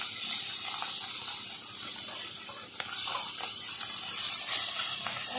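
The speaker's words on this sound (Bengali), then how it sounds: "মাছ এবার আমি দিয়ে দেব। সবই একসঙ্গে দিয়ে দিচ্ছি।" Mourola fish sizzling as it fries in a pan, a steady close hiss with small crackles and pops running throughout, no talking.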